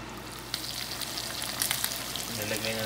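A sunny side up egg fries in a pan with a steady, close sizzle and faint crackles, a low hum running underneath, no voices.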